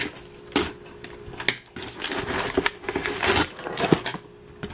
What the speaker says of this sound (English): Got the tape off.